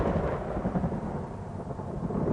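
Rain pours steadily over the savannah, a dense continuous wash of drops with deep thunder rumbling underneath throughout.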